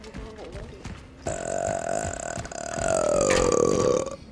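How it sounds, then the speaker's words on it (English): A deliberate burp produced on command: a long, loud, drawn-out belch with a tonal, croaking pitch that rises in strength toward the end, preceded by brief bits of talk and mouth noise. "What, to burp?"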